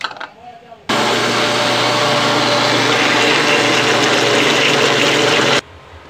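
A blender or mixer whirs loudly and steadily for about five seconds, beating oil, sugar and carrot together for a carrot cake batter, starting abruptly after a few faint kitchen sounds and cutting off sharply.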